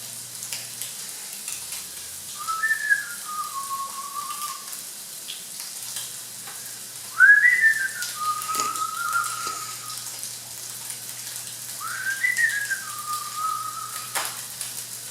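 A person whistles a short rising-then-falling tune three times, with pauses between, over a faint steady background hiss.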